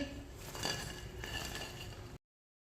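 Fried chicken is set onto a plate with soft clinks and scrapes of dishes and utensils, close and fairly quiet, then cut off abruptly.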